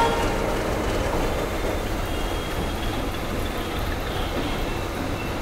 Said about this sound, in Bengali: অবশেষে আমাদের ট্রেন ছাড়লো দিল্লি জংশন থেকে নিউ দিল্লির উদ্দেশ্যে।